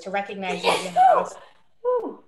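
A short sneeze bursts out in the middle of a presentation, loud and close, cutting across ongoing speech, then a softer breathy snort follows a moment later.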